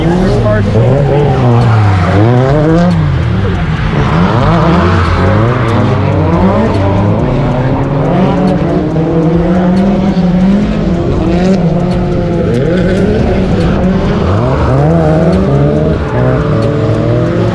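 Drift cars at a Final Bout event at Thompson Speedway skid sideways with sustained, loud tire squeal over roaring engines that rise and fall continuously, close by and dense throughout.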